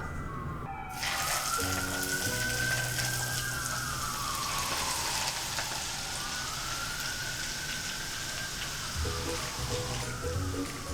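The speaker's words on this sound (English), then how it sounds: "Look at it sizzle." Hot oil poured over Sichuan-style chili flakes sizzles in a loud, continuous frying hiss, with a faint tone sweeping up and down behind it and no talking.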